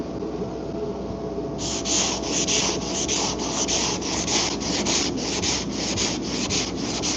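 Auto body filler on a twin-turbo Q50 being block-sanded with 80-grit sandpaper: after a short quieter lead-in, about a dozen loud, close, rhythmic back-and-forth rasping strokes follow one another steadily.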